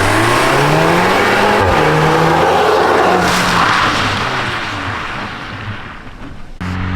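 A VW Golf R runs hard on the Zwartkops Raceway track, its engine loud and close. It revs and climbs through the gears, and the tyres hiss and scrub through a turn as the car surges and holds speed.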